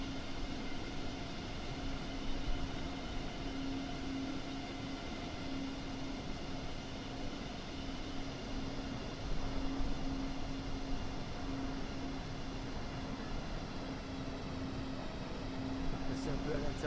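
Inside the cabin of an Airbus A320neo in Microsoft Flight Simulator 2020, a steady, low, even drone with a faint tonal hum holds throughout, and a voice comes through faintly at times.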